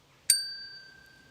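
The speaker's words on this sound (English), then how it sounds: "tap the bell, the top of it." A small bell in a graveyard is struck once on top, giving a bright, clear ding whose single pure tone rings on and slowly fades.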